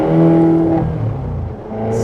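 A Ferrari California 4.3 V8 revving hard in first gear from inside the car, a loud, close engine roar that climbs in pitch, then eases off.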